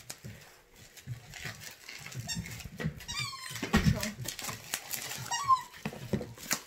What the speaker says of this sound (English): My dog is chewing on one of his toys.